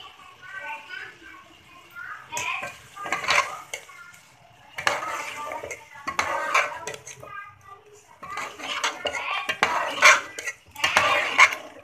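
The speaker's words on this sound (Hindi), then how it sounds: "दही भी अच्छे से भून लेंगे।" A spoon scrapes and clinks against a biryani pot as yogurt is stirred and fried, in intermittent bursts of metallic stirring with a voice talking between them.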